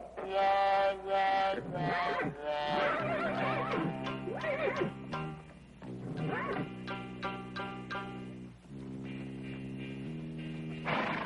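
A horse whinnies loudly several times in a row, high drawn-out calls with shaky pitch, close by and with no talking.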